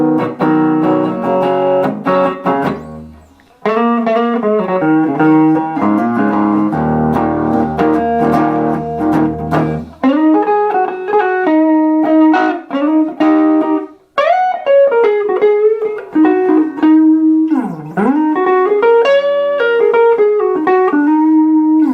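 Epiphone Les Paul Standard Pro electric guitar on its rhythm pickup, played straight into a tweed Champ amp with no effects, giving a clean-to-gritty tone of strummed chords followed by sustained single-note lines and bends, solo and close.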